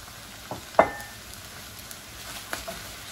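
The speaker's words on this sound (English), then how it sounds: "we're going to be adding the shrimp that we had cooked earlier, along with, you know, some of the juices" Cooked shrimp and their juices tipped into a hot pan of udon noodles: a soft steady sizzle with one sharp splashing clack as they land, then a few faint taps.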